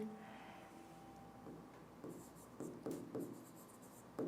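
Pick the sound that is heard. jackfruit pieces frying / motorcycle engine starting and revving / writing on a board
writing on a board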